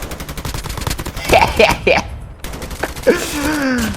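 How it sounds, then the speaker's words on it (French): Rapid gunfire in a battle royale video game, bursts of close automatic shots rattling in quick succession while a voice talks over them. "il y a quelqu'un qui me tire"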